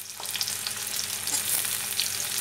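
Drumstick vegetable pieces stir-frying in hot oil for a Bengali aloo posto, a steady close crackling sizzle with faint stirring scrapes, no talking.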